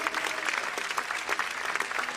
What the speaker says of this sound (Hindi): सभी जोरदार तालियों से इन सब बच्चों का अभिनंदन करें